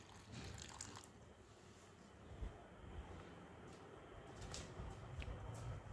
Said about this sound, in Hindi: थोड़ा सा पानी ये प्लांट को डाल देती हूँ